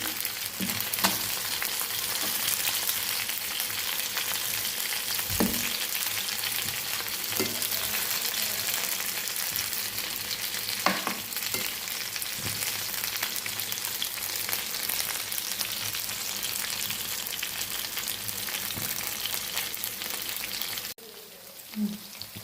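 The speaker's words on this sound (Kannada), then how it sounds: "ತಂದೂರಿ ಸ್ವಲ್ಪ ಎಣ್ಣೆಯಲ್ಲೇ ಹಾಕಿ ಫ್ರೈ ಮಾಡಬೇಕು." Chicken tandoori pieces fry in a little oil over a low flame, giving a continuous soft sizzle with occasional spatter pops, ending abruptly near the close.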